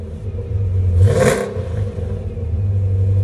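A 2012 Dodge Charger SRT8 fitted with MagnaFlow exhaust idles with a loud, deep, steady rumble, broken by one short rev that swells and falls back to idle.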